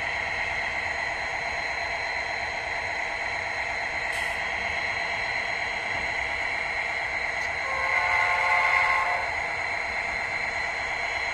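A locomotive horn in a train simulator game sounds over a constant rumbling, whining engine drone, swelling briefly louder near the end.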